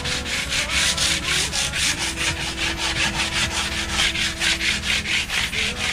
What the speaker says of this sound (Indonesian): Habis itu kita amplas.